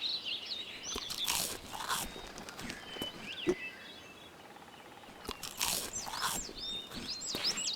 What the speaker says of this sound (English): Is there a way to turn off the munching audio?